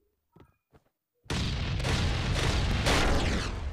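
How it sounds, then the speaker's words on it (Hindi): A planted bomb going off while raiding the Big Steel Base in the game Last Day Rules Survival, with a few faint clicks, then a sudden heavy blast that rolls on as a loud, sustained rumbling roar. "तो चलिए गाइस यहाँ पे मैं बम लगा देता हूँ"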